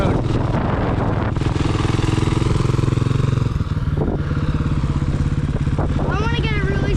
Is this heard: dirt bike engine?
yes